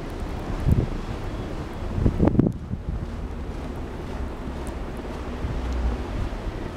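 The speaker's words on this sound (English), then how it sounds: "it's getting worse and worse by the minute" Blizzard wind during a Chicago snowstorm, blowing snow off rooftops: a steady roaring rush with a few stronger gusts swelling and fading, close to the microphone with no talking.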